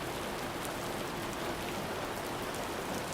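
Heavy rain pours steadily onto soaked stones near a Japanese hot spring among pines, a dense, even wash of drops with no break or voices across the few seconds.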